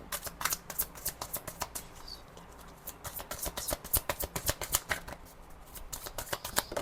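Tarot cards are shuffled by hand in quick, rhythmic riffles, a close series of crisp papery flutters and slaps with no talk.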